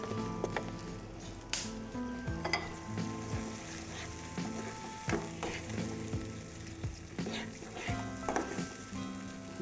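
Steady sizzling of yogurt gravy frying in a pan for capsicum biryani, with repeated scraping and stirring strokes from a spoon against the pot.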